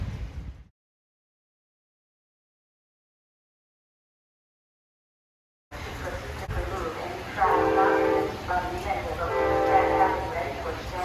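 A VRE commuter train hauled by EMD MP36 locomotives passes on a cold, rainy afternoon in Fredericksburg, sounding its horn in repeated blasts over rumbling rail noise after a silent gap.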